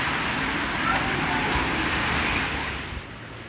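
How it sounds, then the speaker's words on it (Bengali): A heavy downpour of rain pours as a dense, steady hiss, loud and close and continuous, then eases slightly near the end. "অনেকদিন পর মুসলধারে বৃষ্টি।"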